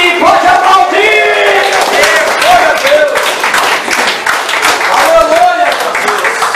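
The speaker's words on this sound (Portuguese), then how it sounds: "Pode aplaudir, pode aplaudir!" Church congregation clapping during an evangelical service, loud rhythmic applause mixed with shouts and cheering voices, close and energetic, with voices calling out over the clapping throughout.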